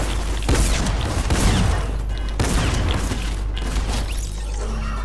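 Tactical shotgun blasts in a video game firefight, several loud close booms and crashing impacts spaced irregularly over dense noisy action, with no talk.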